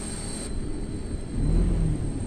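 Steady low cabin rumble inside an airplane in a driving video game, a constant engine drone with a slight swell partway through, alone with no talk.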